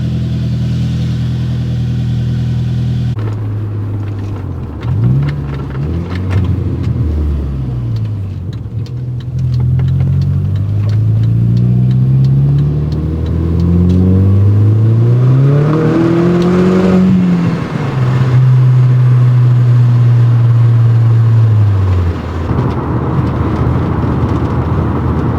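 An Audi S3 car pulls away and accelerates, its engine note climbing through several gear changes in rising and falling sweeps before settling into a steady hum, loud and close inside the cabin.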